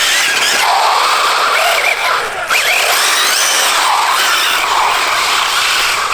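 An Arrma Typhon RC car on a 6S battery runs fast back and forth, its motor whining in a loud, high-pitched rising and falling squeal.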